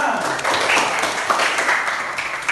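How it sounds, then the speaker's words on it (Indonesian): Students in a classroom applaud in a brief burst of dense, continuous clapping, with a few voices under the noise. "berikan tepuk tangan"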